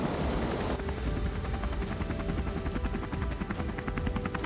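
A heavy-duty helicopter for hire, there to carry passengers over a deep gorge, runs close by with a loud, steady rhythmic rotor chop over a broad engine roar throughout.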